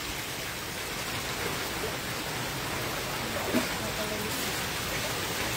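Heavy rain pours steadily during a flood, a dense, even wash of noise that holds at a constant level throughout, with one faint soft knock partway through.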